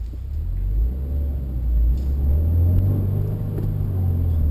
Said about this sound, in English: hear the rev hang